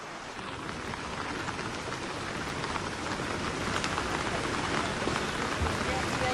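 Heavy rain pours down in Thane, a dense, constant roar of drops hitting surfaces, steady and loud from start to finish.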